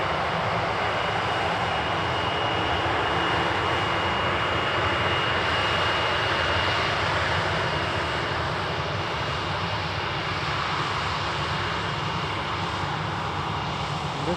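Departing airliner at an airport during morning departures, a loud continuous jet engine roar with broad rushing noise holding steady throughout, heard from nearby.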